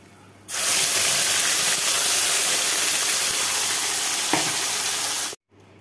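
Ginger, garlic, onion, chilli and tomato paste hits a hot pan and sizzles loudly and steadily for about five seconds, close up, with a brief stir scrape near the end before it cuts off.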